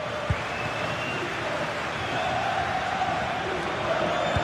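Stadium crowd noise from a football match in a racing-game league broadcast, a steady distant roar of a large crowd with faint swells of cheering, low in level.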